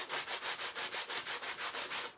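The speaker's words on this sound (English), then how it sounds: "I think my sanding block has had it." A worn sanding block is rubbed back and forth over a thrift store frame being refurbished, about a dozen even, rhythmic rasping strokes close up, alone and fairly quiet.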